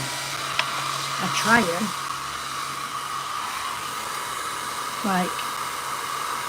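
A hair dryer blows steadily on acrylic inks over paper, a constant loud whooshing hum close by, while someone talks briefly over it.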